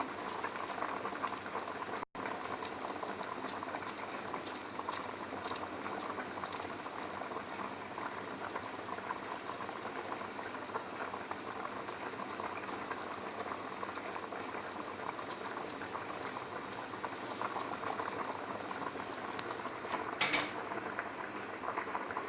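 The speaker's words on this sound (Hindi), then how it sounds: "ये देखिए पानी बॉयल हो चुका है।" Water at a rolling boil in a cooking pot while chicken pulao is being made, a steady bubbling hiss that stays even and close, with a faint clink of metal near the end.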